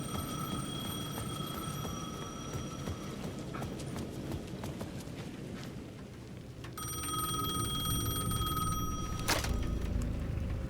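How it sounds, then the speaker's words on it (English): A payphone at the edge of a plaza rings in the video game Alan Wake 2. The shrill electric bell sounds in two long bursts over a low, rumbling ambient drone, with a faint clattering rhythm beneath. "The payphone at the edge of the plaza was ringing again."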